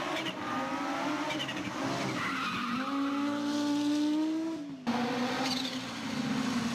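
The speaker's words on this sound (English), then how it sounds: "the unique wheezing, stuttering sound the car made when throttling down" Audi Quattro rally car with its turbo wheezing and stuttering as the throttle closes, engine notes rising and falling with a long sustained whine and a brief cut, loud and close.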